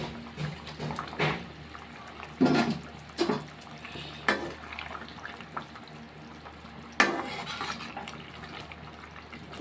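Hilsa fish pieces go into a cooking pan, bringing bursts of frying sizzle and clattering contact among intermittent splashy clanks and stirring noises, moderately close and without speech.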